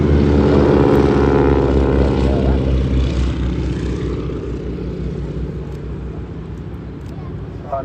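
A propeller trainer aircraft drones loudly overhead at the Portrush Airshow 2024, its engine hum steady and then slowly fading as it passes into the distance.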